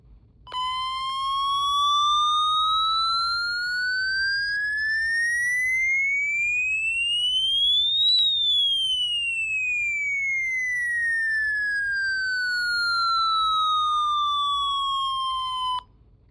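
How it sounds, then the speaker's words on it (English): A loud weather radio alert tone sweeping steadily upward for about eight seconds, then gliding back down just as slowly, continuous and alone. "Which radio made that loud sound?"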